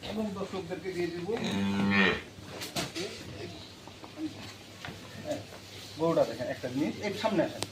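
A dairy cow moos loudly nearby, a long low call, followed by another lowing moo later, with people talking in between.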